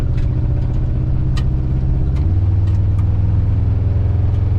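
An LS-swapped engine in a 1985 Chevrolet crew cab dually idles rough with a misfire, a loud, close, uneven low rumble that steps down in pitch midway, with faint ticks above it.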